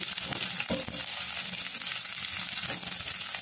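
Cumin, mustard seeds and curry leaves sizzle in hot oil for tomato chutney, giving a steady close frying hiss broken by a few sharp crackles and pops, with no talk over it.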